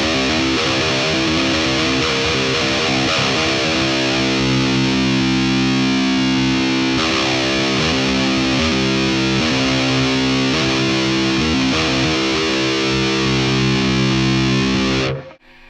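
A distorted electric guitar played through a Boss Katana-100 MK2 combo amp strums heavy, sustained chords for about fifteen seconds before cutting off abruptly, with no talking.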